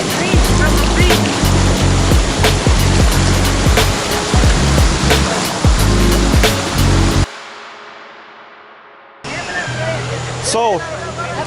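Rushing water at Taytay Waterfall in Laguna, Philippines, a loud continuous roar of falling water with sharp splashes, cutting out briefly before returning.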